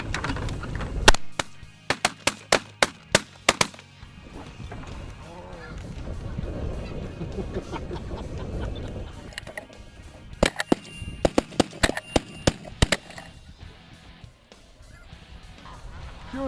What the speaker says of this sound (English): We hear more geese.